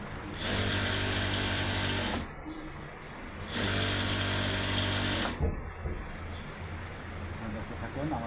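A sewing machine stitching a salwar runs in two steady buzzing bursts of about two seconds each, with a pause between them and soft handling noise after.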